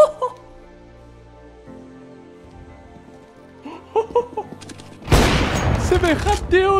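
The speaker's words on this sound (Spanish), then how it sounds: "Me ha parecido el mejor disparo de momento" A sudden burst of loud, dense video game gunfire erupts after a quieter stretch, with sharp cracks and a rising whine overlapping it near the end.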